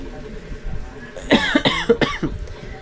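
A few harsh coughs in quick succession, close and fairly loud, over a low background murmur.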